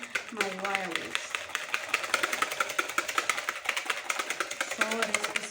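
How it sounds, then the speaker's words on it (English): A wire whisk beats whipping cream by hand in a bowl, making rapid, rhythmic close tapping and swishing strokes while a person talks over it. "So this is very fast mixing. It's whipping your whipping cream."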